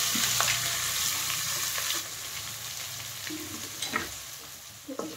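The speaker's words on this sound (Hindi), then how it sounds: "गर्म कर लिया है, उसमें जीरा डाल दिया है, थोड़ी सी हींग डाली है, तो हरी मिर्ची और प्याज डाल देंगे इसमें।" Green chili and onion fry in hot oil seasoned with cumin and a little asafoetida, a soft continuous sizzle with occasional utensil taps and stirring, fairly quiet and close.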